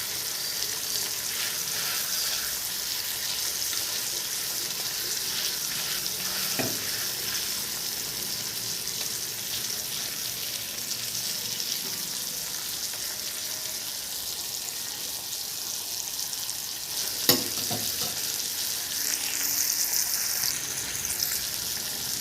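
Fish frying in a pan, a steady soft sizzle running throughout at moderate level, with a brief clatter or stir near the middle and another sharper knock later, no talking.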